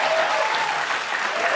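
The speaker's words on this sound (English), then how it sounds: "Someone on staff started that round of applause" A studio audience bursts into steady, sustained applause, dense clapping filling the room at an even loudness throughout, with no break and no voices rising above it.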